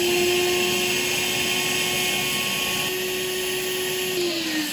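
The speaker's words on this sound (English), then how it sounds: "Simply place the tubing in the end of the shop vac and put your thumb down into the hole." A shop vac drawing vacuum through tubing to bleed a Ducati Panigale clutch valve whines steadily and loudly, its pitch shifting slightly as the hose opening is closed off near the end.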